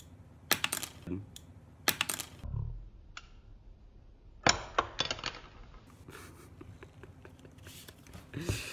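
A Platinum Riviere fountain pen from Daiso has its cap pried off, giving a close series of sharp plastic clicks and snaps in quick bursts, with softer rustling and handling noise between them.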